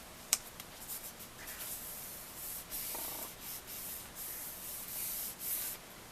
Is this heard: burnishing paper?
yes